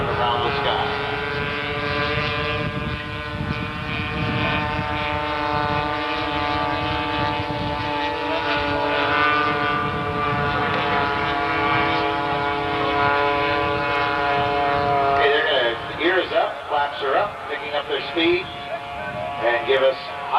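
Aircraft at an air show make a high-speed low pass, a loud sustained droning roar with strong harmonic tones held for most of the clip before breaking into fluctuating rushes as they sweep past, while an announcer talks over it.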